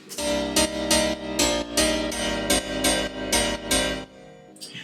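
A layered house piano built from M1 and velo piano sounds plays bright, punchy chord stabs in a steady syncopated rhythm, loud and upfront, with the phrase ending in a short decay.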